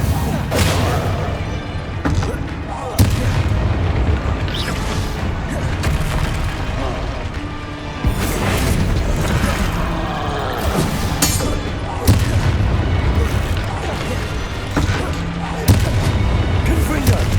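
Repeated heavy spell explosions boom and crash through a Hogwarts Legacy fantasy battle, big blasts landing every few seconds over a constant loud rumble of combat, with a voice shouting spell names.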